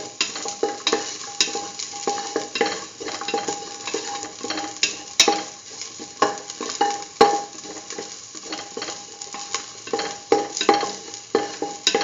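Green chili sautéing in a pan for a lentil and potato stew, a steady sizzle with repeated stirring scrapes and spoon clinks throughout, moderately close with no voices.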